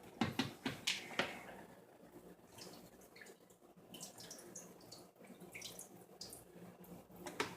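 Excess vinegar poured out of a container, faint close trickling and dripping liquid with a few small clinks, no talking.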